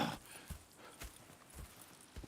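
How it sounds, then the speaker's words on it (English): Horse hooves clip-clop at a steady walking pace in the open-world video game Red Dead Redemption 2, each soft thud coming about every half second at low volume. "Go check the horses are ready."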